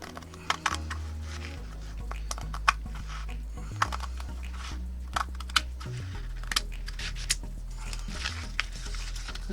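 Scissors cutting canvas at a fold, a series of sharp snips and crisp cuts spread irregularly over a steady low background hum, fairly close and moderately quiet.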